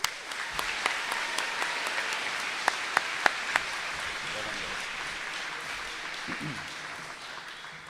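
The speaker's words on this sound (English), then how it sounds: "Round of applause." Applause for award recipients at a school awards ceremony, a moderate crowd clapping steadily for several seconds with a few sharper individual claps, gradually thinning toward the end, heard from a middle distance.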